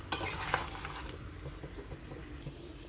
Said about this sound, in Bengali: এবার একটু ভালো করে সবজির সাথে মাছের মাথার সাথে ভালো করে কষিয়ে নিয়ে জল ঢেলে দেবো